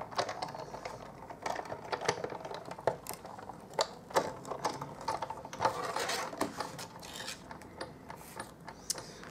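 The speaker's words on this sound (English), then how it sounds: "And I'll crank that through the big shot." Stampin' Up card stock cranked through a Big Shot die-cutting machine, giving a run of close, uneven clicks, creaks and mechanical rattles over about nine seconds, with no talking.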